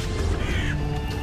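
An animated crow caws and screams in pain while burning, a harsh, strained cry over a dense, loud background of effects, close and brief.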